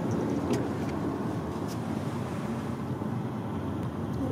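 Steady rumbling road noise inside a moving car with a baby asleep in a car seat, a continuous low drone with wind hiss and no talking.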